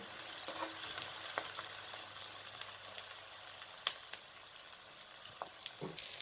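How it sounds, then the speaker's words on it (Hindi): Onions frying in half a cup of hot cooking oil in a kadhai for a dhaba-style bhindi keema, giving a steady low sizzle with a few sharp clinks and scrapes scattered through, no talking. "ये मैंने कढ़ाई के अंदर हाफ़ कप कुकिंग ऑयल को शामिल किया है और इसके अंदर आप प्याज को डाल दें"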